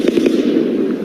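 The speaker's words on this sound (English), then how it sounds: "you can hear the loud gunfire ringing out as she waited in the taxi line outside the Mandalay Bay" Loud rapid gunfire rings out in quick bursts, heard from inside a taxi waiting in line outside the Mandalay Bay Resort in Las Vegas during the October 2017 shooting, with crackling pops over a steady low rumble.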